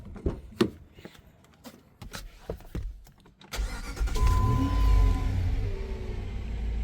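A 2005 Jeep Grand Cherokee starts after a few sharp clicks and knocks, then settles into a steady, close engine rumble with a thin whine over it. No one speaks.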